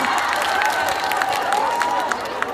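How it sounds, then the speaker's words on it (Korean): Audience applause at an outdoor farmers' convention concert in Boeun, a broad steady roar of clapping and crowd noise with a faint tone running underneath, fairly loud throughout. "세상에 이런 큰 박수 소리는 머리털하고 처음 받아보는 것 같아요"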